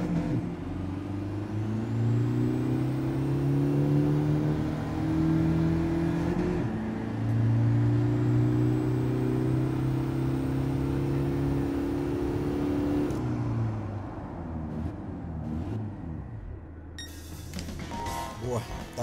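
A car launches at full throttle in Gran Turismo 7, its engine revving loud and steady through two long pulls with a gear change between them, then easing off near the end.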